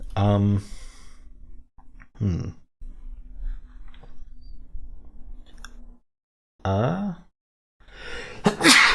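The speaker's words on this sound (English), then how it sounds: "Wow, that was a loud sneeze." A sudden loud sneeze bursts out near the end, a sharp broadband blast after stretches of quiet talking and faint background hum.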